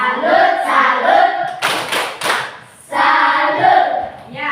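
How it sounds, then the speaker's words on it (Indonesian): A classroom group gives a rhythmic salute clap, a short burst of many hands lasting about a second between stretches of speaking voices. "Tepuk salut untuk kelompok 4. Tepuk salut."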